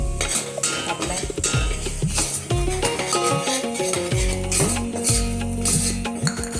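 Spoon scraping and stirring turmeric and coriander powder into a masala in a cooking pan, with repeated metallic clinks and scrapes over a faint sizzle, close and fairly busy.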